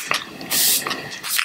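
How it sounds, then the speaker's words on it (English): e.l.f. Microfine Setting Mist sprays in a single close hiss lasting about a third of a second, with faint handling noises around it. "we're going to finish off the skin using the e.l.f. Sale Nights Microfine Setting Mist"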